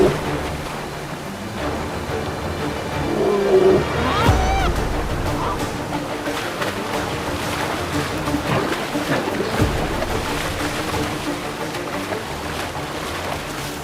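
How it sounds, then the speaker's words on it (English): Rushing river rapids in the wild, a broad continuous roar of churning water that swells briefly around the middle and stays loud and steady throughout, with no voices over it. "Rapids."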